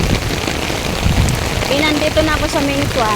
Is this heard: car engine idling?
no